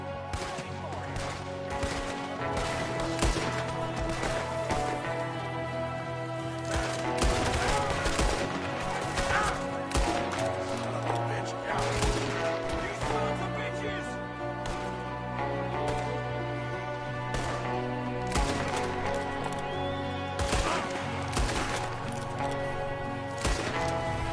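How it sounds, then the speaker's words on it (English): Gunfire in Red Dead Redemption 2 from a shooter firing out of a window, heard as scattered sharp shots over a dense, steady bed of orchestral score and game noise, with voices in between. "There's another one shooting from the window."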